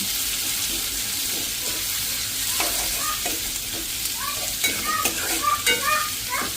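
Cumin and fennel seeds sautéing in hot oil in a pan, a constant close sizzle with scraping stirs growing busier in the second half.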